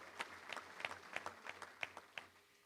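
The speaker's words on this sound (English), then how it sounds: "Let's give Jeff a round of applause" Faint, sparse clapping at a touchdown club gathering: a handful of distinct hand claps at a fairly regular rhythm, quiet and somewhat distant, rather than a full crowd ovation.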